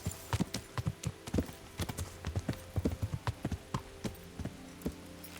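Hooves clip-clopping in an uneven walking rhythm in Kingdom Come: Deliverance, close and clear, over a low steady background hum.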